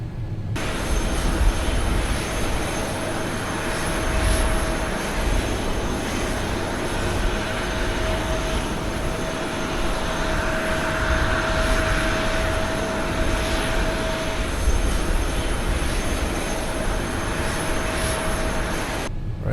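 Boeing 787-9 Dreamliner jet engines taxiing at Papeete in Microsoft Flight Simulator, a loud steady roar with a constant whine that hums on evenly with no break.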